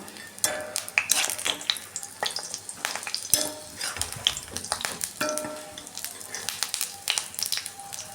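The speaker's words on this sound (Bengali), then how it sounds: "দেখুন বন্ধুরা, অর্ধেক বড়া আমি দিয়ে দিয়েছি। উলট পালট করে ভেজে নেব।" Mustard fritters (bora) frying in hot oil as they are turned over, a crackling sizzle broken by frequent sharp clinks and scrapes of the spatula against the pan, close and fairly loud.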